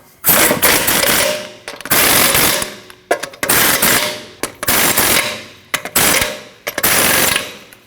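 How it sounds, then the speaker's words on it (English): Rapid bursts from an impact wrench tightening lug nuts on a 2012-2021 Nissan NV2500 wheel, about six loud rattling runs of roughly a second each, separated by brief pauses, close up with no talk. "Now tighten down all your lug nuts."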